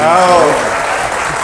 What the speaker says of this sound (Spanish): Aplaudámoslos, de verdad que sí.